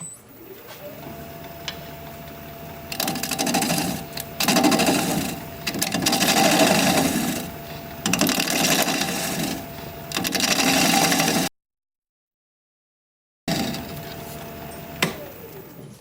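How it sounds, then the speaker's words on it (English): A half-inch standard grind bowl gouge cuts a cherry crotch bowl spinning on a lathe at 760 RPM, giving a steady scraping, humming drone in several sustained passes with short pauses and a sudden dropout near the end. "We're going to be turning at 760 RPM, 1/2-inch standard grind bowl gouge"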